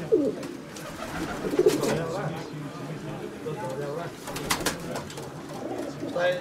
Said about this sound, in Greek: Ωραία περιστέρια, παιδιά.